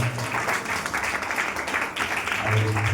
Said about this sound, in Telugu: చప్పట్లు కొడతాను.